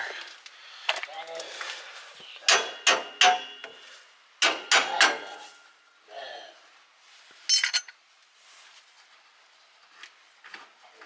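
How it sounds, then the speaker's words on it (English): A rubber mallet strikes the axle of a Chevy Express with an open differential, giving clusters of sharp knocks in uneven bursts, close and loud, with someone talking between the blows. "Where's that rubber mallet?"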